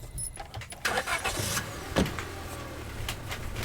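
A pickup truck in the horror video game Scarlet Hollow, with a mechanical whir and clunks as it starts, then a low engine rumble and road noise carrying on steadily.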